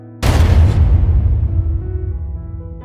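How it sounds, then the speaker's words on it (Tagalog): A single loud gunshot sound effect in a warehouse: one sharp blast followed by a long, booming echo that decays slowly over a couple of seconds. "Isang malakas na putok ang umalingaw sa buong warehouse."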